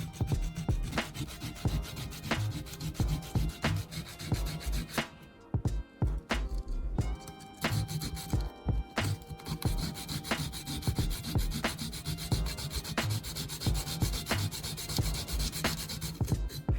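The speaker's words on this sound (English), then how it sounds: "Spray WD-40 onto a piece of sandpaper and scrub the battery terminals and metal tabs." Sandpaper loaded with WD-40 scrubs the metal terminals and tabs of a drill battery in fast, rhythmic back-and-forth strokes, close and steady, with a brief pause midway.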